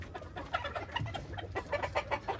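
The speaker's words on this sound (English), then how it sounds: "is off the Ceylon F1, which is that rooster in the back down there" Chickens clucking in a backyard pen of game-cross birds, among them a Ceylon F1 rooster, with steady overlapping clucks and murmurs at close to middle distance and no voices.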